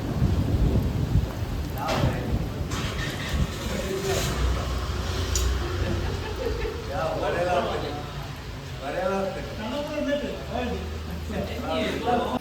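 Steady March rain hisses on surfaces while low thunder rumbles through it, with faint voices talking under the downpour.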